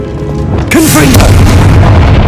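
A Confringo fire spell from the Hogwarts Legacy video game goes off as a loud booming blast, kicking in suddenly partway through, with a short whooshing burst and a rumbling tail that sustains to the end.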